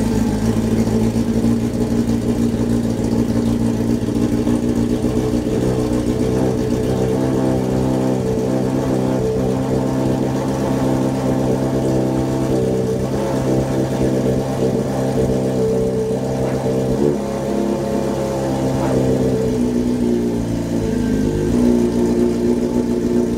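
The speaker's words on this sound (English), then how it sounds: "I'm going to go ahead and start my bike and demonstrate what I was talking about." A motorcycle engine runs steadily and loudly close by, holding a constant throbbing rumble for over twenty seconds with only slight dips in pitch near the end, with no talking.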